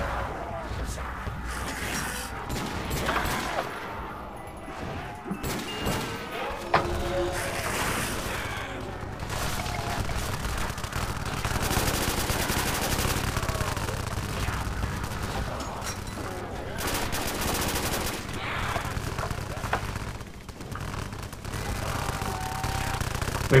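Gunfire and game sounds fill a Call of Duty custom zombies match, giving a dense, continuous wash of shots and effects at moderate loudness with no clear talking.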